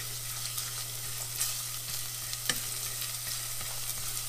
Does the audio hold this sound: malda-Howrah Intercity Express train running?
no